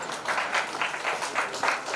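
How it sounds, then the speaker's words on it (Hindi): Audience clapping at a live music show, a steady dense wash of many hands swelling in soft waves for about two seconds, with no voices over it. "एक बार सभी के लिए जोरदार तालियां हो जाए।"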